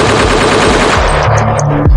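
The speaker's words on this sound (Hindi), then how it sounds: "गोलियां चली" A loud burst of rapid automatic gunfire rattles fast and close, then breaks into a few separate shots and trailing echoes near the end, with no voices.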